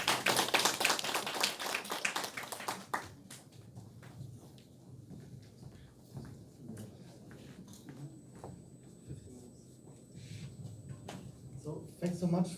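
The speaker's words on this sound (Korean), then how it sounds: "자, 박수 맞이해 주십시오." At a Seoul appropriate-technology fair, the audience gives a short burst of brisk applause that tapers into scattered claps, with people talking quietly afterward.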